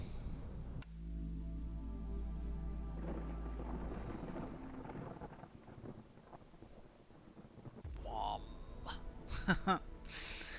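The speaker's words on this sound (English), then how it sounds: "Just a big storm." Thunderstorm in the video game Aiming High, a low rumbling roar and wind filling the opening seconds, fading midway and then swelling again with crackling bursts near the end, under quiet background sounds.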